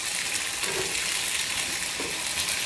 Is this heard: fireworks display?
no